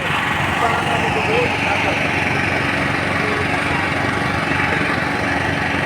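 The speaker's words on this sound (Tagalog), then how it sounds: "Yan na welding machine." A welding machine's engine drones steadily at a construction site at Plaza Mexico and Maestranza Esplanade, a loud continuous mechanical hum with a buzzing edge that stays constant throughout.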